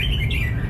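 A competition songbird gives short, clear chirping calls close by, heard against a loud, steady low rumble.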